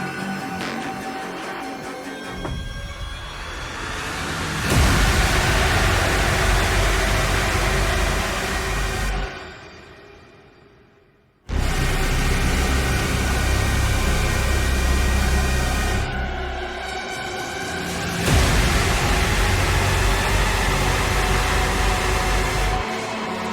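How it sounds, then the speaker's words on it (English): Dense, loud pulses of roaring noise from the DOOM: The Dark Ages soundtrack surge in long waves, each tailing off rather than cutting hard, with one near-silent gap before the wall of sound slams back in. "it's these loud pulses of noise. And then they pull it, but it's not a hard stop. The noise tails off."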